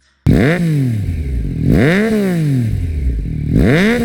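A 2024 Yamaha MT-09 motorcycle with an aftermarket exhaust revs up three times in rising, sweeping bursts, loud and close, with a throaty exhaust note between revs.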